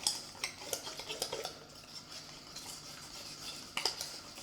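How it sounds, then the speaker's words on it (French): A small whisk beating vegan omelette batter in a bowl: quick light clinking and tapping strokes, close and fairly faint, steady for a few seconds with no speech. "Je vais prendre mon petit fouet."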